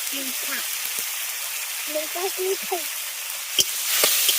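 Tomato paste with ground coriander, cumin and chili powder sizzles steadily in a hot pan for a bottle gourd curry, a soft continuous frying hiss with a voice speaking briefly over it.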